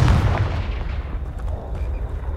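A single close, loud Confringo blast from the blasting spell in Hogwarts Legacy, with a sharp boom at the start that trails off into a rumbling decay, no talking.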